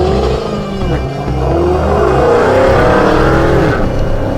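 Race car roaring along a track at a Roadkill shootout, the engine loud and close, holding a strong rising and falling drone as it accelerates past, with no talk over it.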